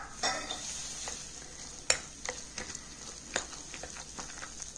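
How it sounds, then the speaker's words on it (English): Raw mango dal is stirred in a pan, with a soft sizzle underneath and several quiet, separate scrapes and taps of the spoon against the pan, faint and close. "Now just stir it."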